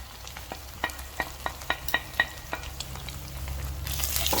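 Coriander powder, cumin powder and salt are stirred in a hot pan, with a low sizzle beneath a series of sharp spoon taps and scrapes against the pan. The frying hiss swells louder toward the end.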